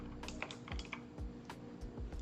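Quiet, close typing on a computer keyboard, a quick irregular run of key clicks lasting a couple of seconds with no talk.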